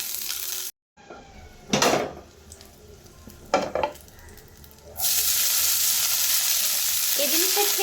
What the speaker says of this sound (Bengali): আর সামান্য একটু তেল দিয়ে আমি তার আব্বুর ভাতটা ভুনা করে দেব।